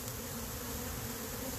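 Honey bees drone in a thick, continuous buzz as smoke drives them off a hive, the swarm close and steady throughout with no talk.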